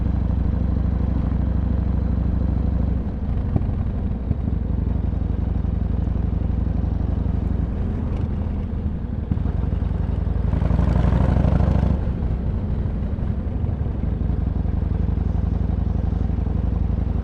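A big motorcycle engine drones steadily while riding through traffic, with a constant low rumble and wind roar and a brief swell in revs partway through, close and continuous.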